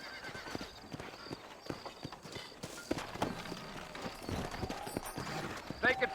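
Horse hooves clip-clop in a loose rhythm in the video game Red Dead Redemption, with a brief whinny and someone talking over the steady clatter.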